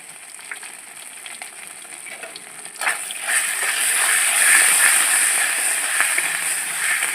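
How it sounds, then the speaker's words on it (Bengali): Ginger frying in hot oil for a Bengali pabda fish mustard curry gives a close, steady sizzle that swells sharply partway through and stays loud, with faint stirring clinks and no voices. "তেলের মধ্যে ভালো করে আদাটা কষিয়ে নেবো"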